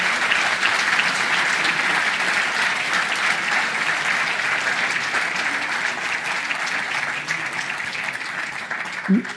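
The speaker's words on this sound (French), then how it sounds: "Je vous propose d'applaudir Pierre Collet." Sustained applause from a large audience, steady dense clapping that fills the whole stretch and fades slightly toward the end.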